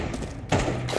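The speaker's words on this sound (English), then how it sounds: "Grenade out. Flashbang." Flashbang grenade in Counter-Strike 2: a sudden loud thud-like burst about midway, then sustained broadband ringing noise, with a second bright burst near the end.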